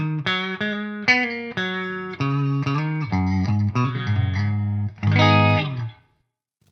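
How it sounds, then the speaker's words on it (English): An electric guitar with a humbucker pickup plays clean, low-gain notes through a Two notes preamp, a run of distinct plucked tones and a final ringing chord that decays to silence. "If we change the guitar to something with a humbucker, we can still get very clean tones with a low gain setting."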